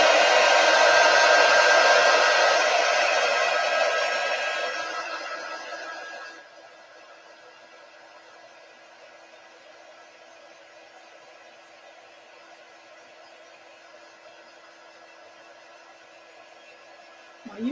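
A hair dryer blows loud and steady as it dries a Chalk Couture chalkboard sign, then drops to a much quieter low setting and keeps whirring evenly until it clicks off.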